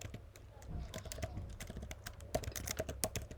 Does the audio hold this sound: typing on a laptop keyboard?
yes